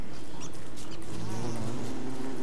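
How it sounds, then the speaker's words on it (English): Bees buzzing in Don't Starve Together, a steady, continuous drone of several insects heard close up with no pause, and a few faint higher chirps above it. "There's a lot of bees over here"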